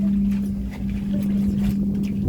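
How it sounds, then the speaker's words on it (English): Loud ventilation fan running inside a coal mine on a guided underground tour, a steady low droning hum with a constant tonal whine holding throughout, close and continuous. "The fan's very loud."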